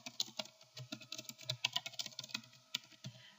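Text typed on a computer keyboard, a close, quick run of light uneven clicks and taps with short pauses between bursts, no voices.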